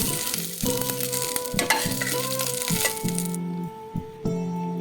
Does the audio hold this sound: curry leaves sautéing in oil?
yes